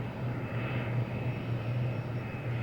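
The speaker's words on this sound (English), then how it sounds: "the 757 underwent refused takeoff tests, establishing the distance required to safely stop the airplane when accelerated to takeoff speed, and the run then aborted" Boeing 757 jet airliner decelerating hard on the runway after an aborted takeoff during refused takeoff testing, a steady, loud engine roar with low rumble held throughout, no voices.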